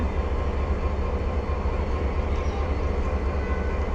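Train standing on the third line at Joydebpur station, a steady low rumble with constant broadband noise throughout, no talking.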